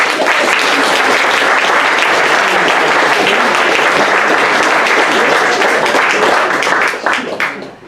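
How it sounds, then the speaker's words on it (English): Loud, full applause fills a room at an athletics club awards evening, a thick wash of many clapping hands that holds steady for about seven seconds before tailing off quickly. "give Liz a hand of applause for the fact that she's still with us"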